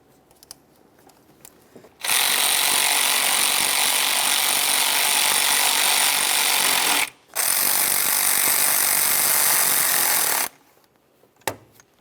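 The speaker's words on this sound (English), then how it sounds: "get both of our mounting bolts started" A power tool drives the AC compressor mounting bolts on a 2001-2005 Ford Explorer Sport Trac: two long, loud, steady whirring runs, the first about five seconds and the second about three, split by a brief pause, with quiet shop noise around them.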